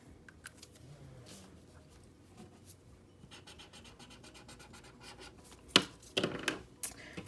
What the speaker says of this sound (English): Let me color that in.